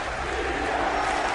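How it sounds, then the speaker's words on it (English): A Patriots football stadium crowd roars in a dense, loud wash, its defense chant filling a brief stretch with no break. "Defense chant."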